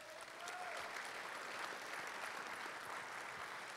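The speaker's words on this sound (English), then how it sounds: "I'd like to give him one more round of applause as well" Sustained applause fills a Bicycling Hall of Fame induction ceremony hall, a dense, even crowd clapping that holds steady from start to finish at moderate distance.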